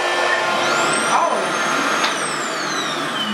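A reverse hair dryer roars steadily and close on natural hair, a broadband whooshing hum with a faint whine that holds for the whole stretch.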